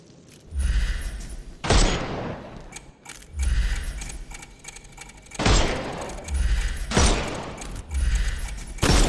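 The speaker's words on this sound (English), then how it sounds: "Shoot off their armour." Gunfire in the Sherlock Holmes Chapter One video game as shots knock armour off enemies, several sharp loud bursts with ringing, metallic tails spaced through the clip, no talking.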